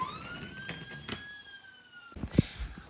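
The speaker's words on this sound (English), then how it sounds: "with a mighty roar of his siren, he raced off" A police siren sound effect in a children's cartoon story, a wailing tone rising and falling over about two seconds, followed by a short thump near the end.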